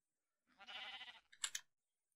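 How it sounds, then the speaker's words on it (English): A Minecraft sheep gives a short, wavering bleat followed by a brief higher second call, close and clear against silence. "The sheep is worrying me."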